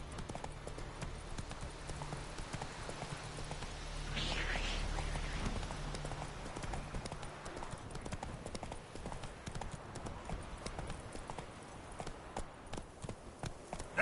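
Clip-clop hoofbeats of the horse Roach trotting steadily in the Witcher 3 game world, a continuous rhythmic patter over a low ambient bed with faint voices in the background.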